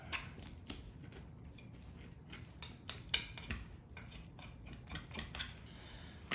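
The back of a knife scrapes meat off a chicken breast bone, quiet repeated scraping strokes with small metallic ticks and one sharper click, close and faint, without talk.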